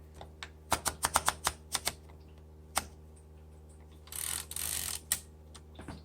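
Typing on a 1935 Underwood Noiseless Portable typewriter: a run of quick, crisp key strikes in an irregular rhythm, then a brief ratcheting carriage sound and a few more isolated taps, close and fairly quiet.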